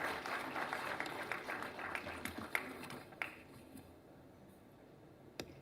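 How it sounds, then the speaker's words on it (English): Faint applause from an audience at a science awards function, a spread of scattered claps that thins out and fades over several seconds, with a few louder isolated claps near the end. "So a huge round of applause for Dr. Ratna and her work."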